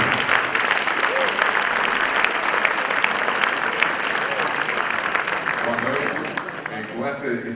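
Audience applause at a technology congress for the organization's president, a steady dense wash of clapping filling the hall, holding strong throughout and tapering slightly at the end with faint voices underneath.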